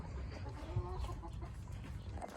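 A broody hen and other chickens cluck softly and steadily nearby, with low, irregular calls over a quiet background and no talking.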